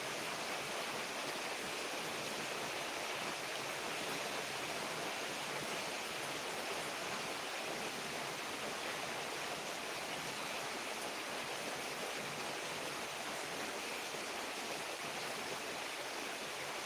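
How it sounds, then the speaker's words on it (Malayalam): Heavy rain falls in a relentless, even roar, a dense wash of sound that holds steady throughout with no voices or breaks. "ഭയങ്കര മഴ നിങ്ങൾക്ക് മഴയുടെ ശബ്ദമൊക്കെ കേൾക്കാവോ"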